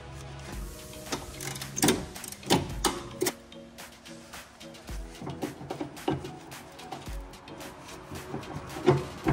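A ratchet loosens the rear sway bar link nut on a 2012–2017 Toyota Camry, producing a series of close, sharp clicks and metallic taps in irregular bursts.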